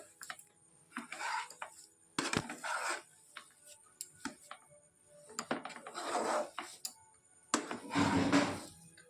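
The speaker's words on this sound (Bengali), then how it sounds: "এই যে আমি নেড়ে চেড়ে নিচ্ছি।" Semolina being stirred for barfi in a pan, repeated dry scraping and rubbing strokes of a spoon against the pan in irregular bursts, close and clear, with no talk.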